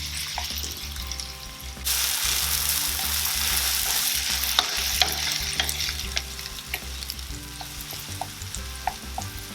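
Onions sauté in olive oil for an eggplant dip, a loud close sizzle that swells suddenly, then keeps going under intermittent spoon scrapes and taps against the pan.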